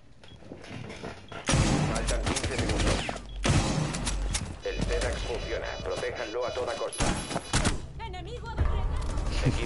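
Rapid bursts of gunfire in the video game Rainbow Six crackle in volleys, some sustained like automatic fire, with brief pauses between them and occasional game-like effects.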